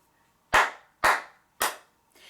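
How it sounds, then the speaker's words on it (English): Crisp, close hand claps beat out a short rhythm in a kindergarten music lesson, three loud evenly spaced claps and a softer fourth, with no talking. "Do you want to try to clap that?"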